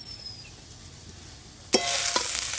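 Onion, ginger and garlic frying on a village clay stove, beginning quietly and then rising suddenly into a loud, close, steady sizzle with a couple of sharp stirring scrapes, and no talk.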